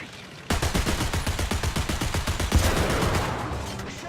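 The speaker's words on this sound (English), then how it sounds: "Our sector is under artillery barrage!" Rapid, loud bursts of gunfire and artillery barrage from War Thunder tank combat start abruptly and pound in a dense, continuous rhythm before fading into a rumbling tail.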